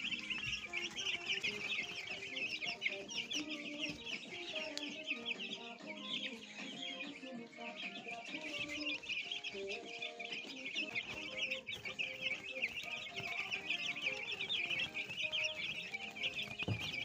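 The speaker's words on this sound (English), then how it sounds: "Overall, our chickens are doing well on day 9 of their growing cycle." Kenchic broiler chickens at nine days old cluck and chirp continuously on a poultry farm, a dense steady chorus of many birds close by with no talk.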